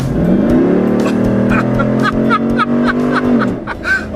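Jeep Wrangler SRT with a 6.4L HEMI V8 floored at full throttle, a loud, deep engine roar climbing in pitch as it accelerates, close up, with faint voices over it.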